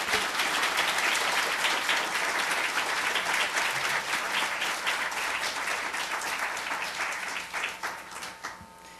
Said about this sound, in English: I'm going to ask everyone for a big round of applause for our speakers this morning.